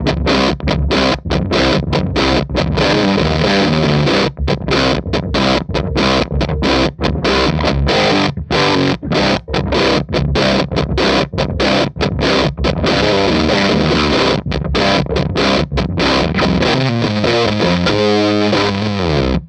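Heavy, saturated electric guitar riff played through a Black Arts Toneworks Priestess fuzz pedal, a thick doom-style tone with choppy, rhythmic stabs, loud and continuous with no voices.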